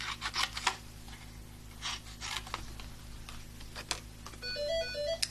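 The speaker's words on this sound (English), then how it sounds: "Oh, of course the phone rings." A home phone rings near the end, a rapid electronic warble repeating after scattered rubbing and paper-handling noises from papercraft work with Designer Series Paper.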